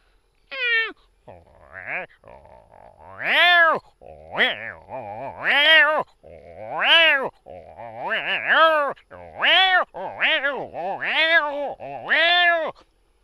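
A voice imitates two cats meowing and yowling at each other, a long run of drawn-out, rising-and-falling meows in close succession, loud and near.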